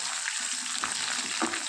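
Onion pieces frying in hot tempering oil for a gongura chutney give a steady, close sizzle with a few brief crackles over a short stretch.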